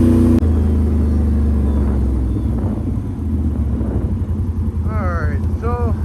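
Idling engine of a 2022 Can-Am Renegade 1000 XXC ATV fitted with an HMF exhaust, a steady low rumble that stays loud and close throughout, with a brief whine near the end.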